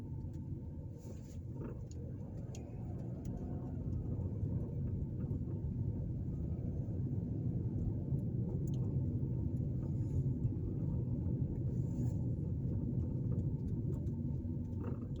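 A car driving down a street in Gary, Indiana, heard from inside as a low, steady road rumble with engine drone throughout, faint occasional clicks above it and no talking.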